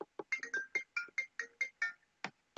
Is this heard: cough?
no